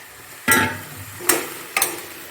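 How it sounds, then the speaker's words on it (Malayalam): Breadfruit pieces frying in a pan are stirred, giving three distinct scraping stirs over a soft background sizzle, close and fairly quiet. "കുറച്ച് നേരം ഈ കടച്ചക്കയും കൂടെ ഇട്ടിട്ട് നമുക്കൊന്ന് ഇളക്കി കൊടുക്കാം"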